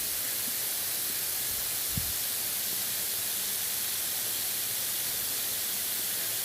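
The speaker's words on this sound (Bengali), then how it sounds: "তেল গরম হয়ে গিয়েছে, আমি একটা একটা করে মাছ দিয়ে দেব।" Bhola fish pieces sizzling in hot oil in a pan, a steady even hiss that runs throughout, with one faint soft thud partway through.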